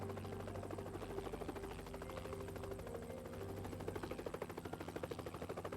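A helicopter's steady rotor thump and engine drone, quite faint and distant, rumbling on throughout with a rapid pulsing beat.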